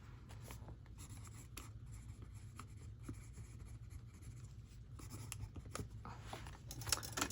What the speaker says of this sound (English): Now what would I write that with? A pencil, maybe?